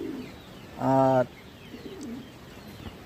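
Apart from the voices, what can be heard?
pigeons cooing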